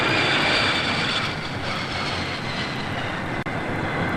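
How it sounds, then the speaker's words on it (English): Airplane passing overhead near Boston Logan airport in 1976, a loud continuous engine roar filling the whole stretch with no talk. "Every 5 minutes during the holidays, planes come."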